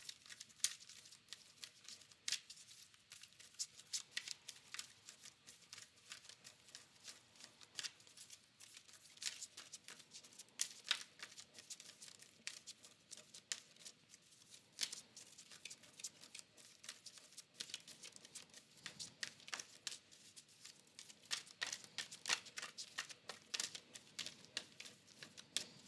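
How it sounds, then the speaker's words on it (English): Tarot cards being shuffled and pulled give a long run of soft, fast riffling and tapping clicks, quiet and close, pausing briefly now and then before starting again. "I'm going to pull another card as well"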